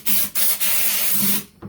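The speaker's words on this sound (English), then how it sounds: "I take my air hose, depending on how much I have to scrape out." Air hose blowing debris and trash out of a wooden swarm trap box, a loud hissing rush in several close bursts broken by short pauses, with no talking.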